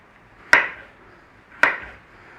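Two sharp knife chops through potatoes on a cutting board, about a second apart, each a crisp close thud with a short ringing tail.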